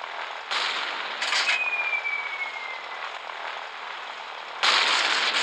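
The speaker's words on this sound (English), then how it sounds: "Wow, these are some powerful bombs." Bombs exploding in a gunship naval battle video game, heavy blasts in bursts over a continuous rumbling roar, with a whistling streak midway and another loud burst near the end.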